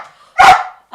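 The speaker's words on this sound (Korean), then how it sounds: "이거 개 짖는 소리가 들려." A dog barks once at home, a single loud close bark, with the start of another bark cut off at the very end and no talking over it.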